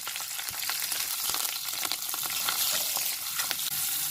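White sesame, poppy seeds and green chilies frying in mustard oil in a kadai, a steady bright sizzle with sharp crackles and pops, close and continuous throughout.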